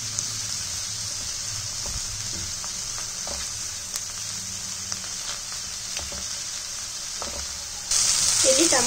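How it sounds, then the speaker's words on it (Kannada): Tomatoes frying in a pan on a medium flame for restaurant-style palak paneer give a steady, moderate sizzle with occasional stirring clicks, growing slightly louder near the end. "ಮೀಡಿಯಂ ಫ್ಲೇಮಲ್ಲಿ ಇಟ್ಕೊಂಡೆ ಫ್ರೈ ಮಾಡ್ಕೊಳ್ಳಿ."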